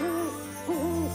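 A cartoon owl from a children's animated series gives two smooth, wavering hoots in quick succession, clear and close over a quiet tonal background.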